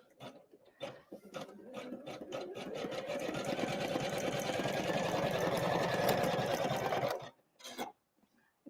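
An embroidery machine stitches a blanket stitch around a Christmas card design, with a fast, steady mechanical chatter building after a few starting stitches and stopping abruptly near the end.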